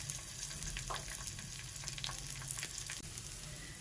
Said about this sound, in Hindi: दोबारा से फिर हम फ्राई करते हैं 1 चम्मच घी डाल के।